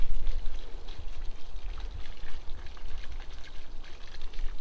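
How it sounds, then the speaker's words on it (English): A small water feature in a botanical garden's lake area trickles and pours in a steady, close stream of splashing water with no talk over it. "a little water feature over there"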